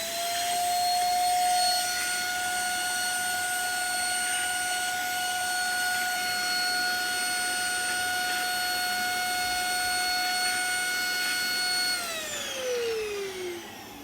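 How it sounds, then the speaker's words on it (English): A vacuum cleaner runs steadily and loudly on its own, a constant motor whine with high tonal hum, then winds down as it is switched off near the end. "That's how this vacuum functioning."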